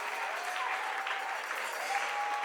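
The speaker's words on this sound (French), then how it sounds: "Acclame Jésus avant de t'asseoir" A church congregation claps and cheers in sustained, dense applause with a steady roar of many hands throughout, and a sung or held voice tone rises faintly above it.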